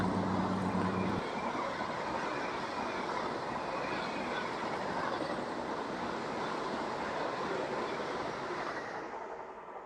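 A MEMU passenger train rolls steadily onward after leaving Aler station, a continuous loud rumble and rush of wheels on track heard from inside, with a low engine drone fading early and the noise easing slightly near the end.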